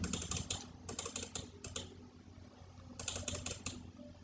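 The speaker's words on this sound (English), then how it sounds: "Now I am selecting using quadruple click." A computer mouse left button is clicked in quick groups, several sharp, quiet, close clicks at a time with pauses between the groups.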